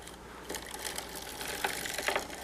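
A vintage sock knitting machine cranked back and forth, giving a run of quick mechanical clicks and clatters with a few sharper rattling bursts, close and fairly steady.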